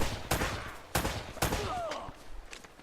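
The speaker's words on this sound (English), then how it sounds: "I got my rifle out, and I was like, all right, where are they at? Shooting them down." Rifle gunfire in the video game Uncharted: Drake's Fortune, with three sharp, loud shots spaced about half a second apart, each trailing off into a short echo and faint background ambience.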